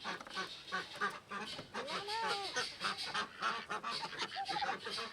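White turkeys on a Michigan farm gobble and call in a busy, overlapping chorus of poultry, with rising and falling honk-like yelps close by throughout.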